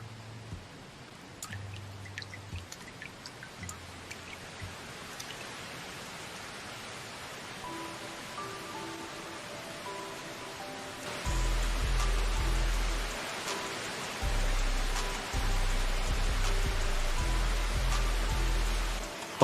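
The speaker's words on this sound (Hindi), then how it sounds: "बारिश हो रही है।" Rain falls steadily in a Naruto anime scene with Hindi dubbing, a soft, continuous hiss throughout, with low tonal music swelling louder partway through.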